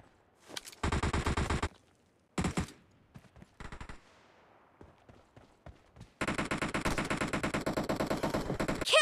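Rapid automatic gunfire in the PUBG Mobile battle royale game, loud and close, coming in dense bursts with single shots and short gaps between them, then a long sustained volley at the end.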